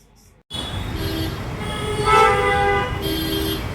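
An electric train in India rumbles steadily close by after a sudden onset, with a loud horn-like tone rising in the middle, fairly loud throughout.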